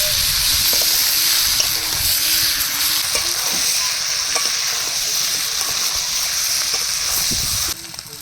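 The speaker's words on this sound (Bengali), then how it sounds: "তিন চার মিনিট ধরে আলু আর মশলা কষিয়ে নিচ্ছি" Potatoes and spices stir-fry in a pan for a Bengali duck meat curry, with a loud continuous sizzle and repeated scraping strokes of a spatula against the pan throughout, easing slightly at the very end.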